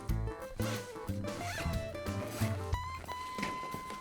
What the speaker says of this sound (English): Close up the top zipper.